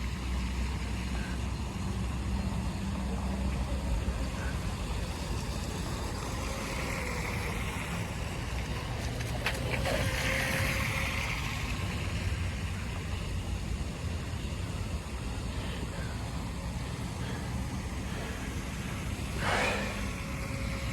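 A radio-controlled micro boat runs on open water, its small motor a steady, thin distant whine that lasts throughout, with faint swells and a few brief knocks near the end.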